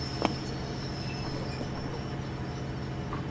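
A train rolls past in a Hello Neighbor mod video game, a faint, steady rumble with a sustained metallic wheel squeal and a brief clank near the start.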